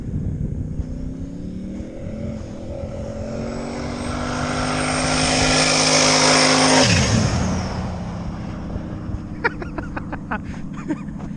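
A turbocharged LS-swapped Ranger truck on studded ice racing tires roars by with rising engine drone, peaks loud up close, then drops in pitch as it passes and fades, followed by scattered clicks and rattles.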